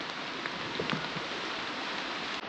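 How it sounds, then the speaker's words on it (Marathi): Steady light rain hisses evenly throughout at a temple stairway, a dense wash of falling drops with a few faint knocks underneath. "आज नेमका पाऊस चालू झालाय"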